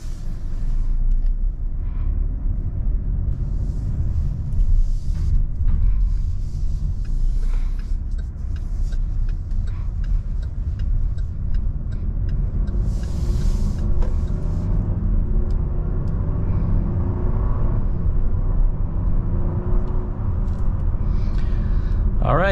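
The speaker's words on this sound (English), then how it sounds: "let's go ahead and take this SUV on a drive and see how it does" A 2023 Buick Encore GX SUV rolls along the road with a steady low cabin rumble of engine and tire noise, constant and moderately loud throughout, with a few faint higher clicks over it.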